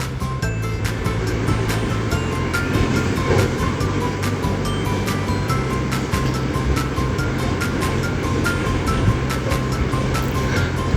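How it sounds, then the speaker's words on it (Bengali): Raw mango pieces stirred and fried in hot oil for a Bengali tel jhal pickle, a steady dense sizzle that runs unbroken and close throughout, with faint scraping taps from the stirring. "এখন নাড়াচাড়া করে আমটা একটু লাল লাল হলে নামিয়ে ফেলবো।"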